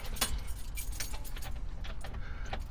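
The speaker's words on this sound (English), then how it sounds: "I'm going to put in my key so you guys can hear it." Keys jangle and clink close by in a steady metallic rattle, with a few sharper scrapes as the ignition key slides into the lock of a vintage Land Rover military ambulance.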